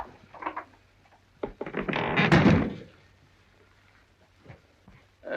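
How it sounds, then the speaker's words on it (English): Knocks on a door in an old British detective drama come as a few dull thumps, followed by a louder burst of door noise, with quiet room tone between. "I distinctly heard a knock."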